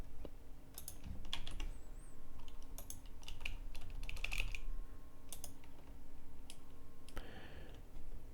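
Fingers tap a computer keyboard to type a load balancer name, producing quick, light clicking keystrokes in irregular clusters close up, with a faint steady hum underneath.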